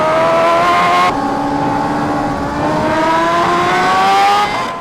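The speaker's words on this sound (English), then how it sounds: "The first ride on the full carbon H2R." Full carbon Kawasaki Ninja H2R motorcycle with a supercharged engine, heard up close as it rides, its loud, steady high-pitched whine easing and then climbing again with the throttle, with no talk over it.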